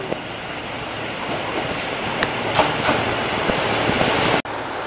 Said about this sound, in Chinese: 火车站，车马上就要过来了。